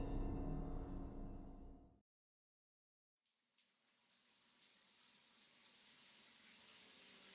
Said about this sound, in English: Steam and suds fill my vision as a pleasant torrent of hot water sprays across my body.